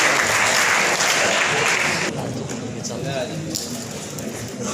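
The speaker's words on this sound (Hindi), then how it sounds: "एक बार जोरदार तालियां हो जाए" Loud audience applause at a political gathering, with vigorous clapping for about two seconds before it drops into softer, scattered claps mixed with crowd noise.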